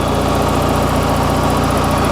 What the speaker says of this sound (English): The famous motor, the famous engine.